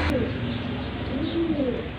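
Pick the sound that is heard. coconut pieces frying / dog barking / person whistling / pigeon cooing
pigeon cooing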